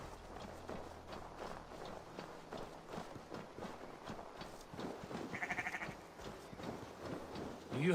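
Sheep bleat in the Viking-era world of Assassin's Creed Valhalla; a clear, drawn-out bleat rises late in the stretch over busy game ambience, soft footsteps and rustling.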